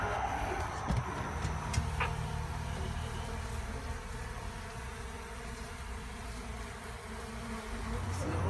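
Honeybees swarming around an opened hive during bare-handed beekeeping, a dense, steady buzzing drone that fills the whole stretch with a few faint knocks and no talk.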